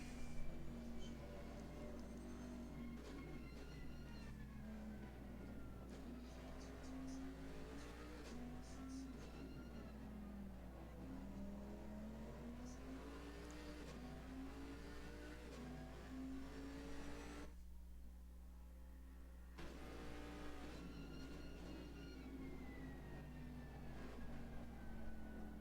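A race car engine in Assetto Corsa Competizione at Silverstone drones with a steady tonal whine that rises and falls through gear changes and corners, a sustained close engine note with a brief drop midway.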